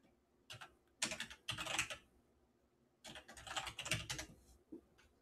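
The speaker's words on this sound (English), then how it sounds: "And here, we'll just type about config." Fingers type on a computer keyboard in two quick bursts of clattering keystrokes, close and clear, separated by a short quiet pause.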